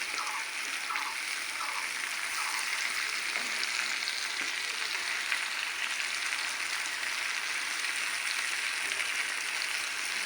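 Vegetables and dried fish fry in hot oil in a clay pot over a clay stove, a soft, even sizzle with faint bubbling that runs steadily at low volume.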